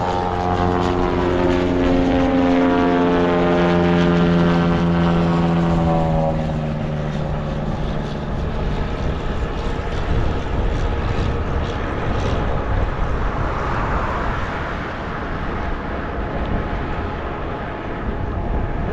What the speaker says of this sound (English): Oh, there's your